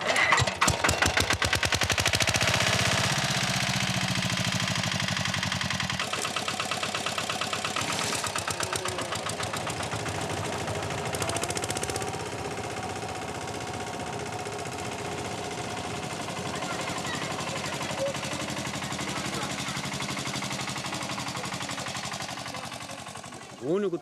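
An old, museum-piece tractor on the Bijagós islands is started by rope, sputtering into a loud mechanical clatter that settles into a steady, rattling idle. A voice is heard at times over the engine.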